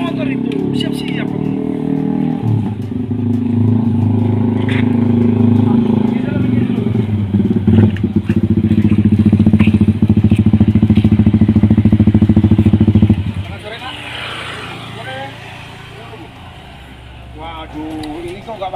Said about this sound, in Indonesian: Ada motor itu, siap-siap.